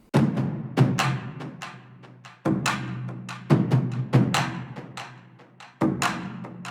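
War drums panned left and right and EQ'd, heavy booming hits landing in an uneven pattern of single strokes and quick flams, each decaying briefly before the next, close and loud with no voices.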